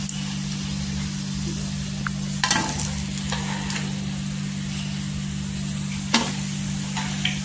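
Sabudana vadas deep-frying in a pan of hot oil bubble in a constant dense sizzle with a low steady hum beneath, punctuated by a few brief louder crackles and scrapes.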